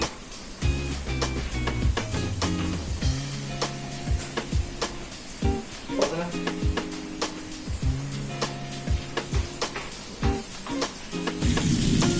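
Onion and garlic sizzle in a pan for mushroom soup, a continuous crackling fry broken by regular clicks and tapping knocks from the stovetop, fairly quiet and without talk.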